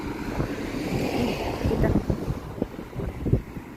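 Wind at a bus stop in Ireland buffets the microphone in a steady, rumbling roar with low gusting thumps, loud and close throughout.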